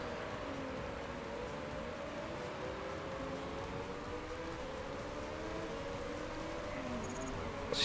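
Rain pours steadily over wet racing in the Chinese Grand Prix of an F1 video game, a constant broad hiss under the whine of engines and passing cars, ending with a faint crackle.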